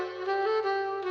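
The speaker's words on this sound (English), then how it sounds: "A saxophone sounds like this." A saxophone holds a single sustained note for about a second, close and clear, with a steady reedy tone and no talking.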